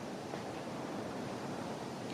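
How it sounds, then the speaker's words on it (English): Steady wind blowing outside an exposed Suffolk church on a very windy day, a continuous broadband rushing roar that holds at an even level throughout with no voices. "You can hear the wind blowing outside. It's a very windy day here"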